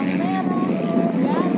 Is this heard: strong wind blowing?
yes